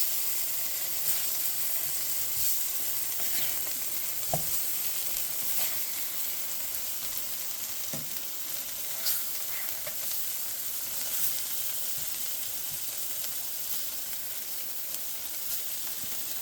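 Venison backstrap pieces frying in a pan, a steady close sizzle with occasional soft pops and utensil clicks as they are flipped, no talking.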